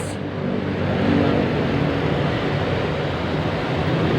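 A Suzuki Ciaz car engine idles steadily after an ignition coil and spark plug repair, giving a continuous smooth hum close by with no talking.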